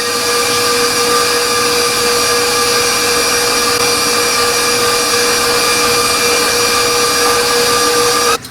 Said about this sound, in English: So I'm going to take the bowl off the mixer.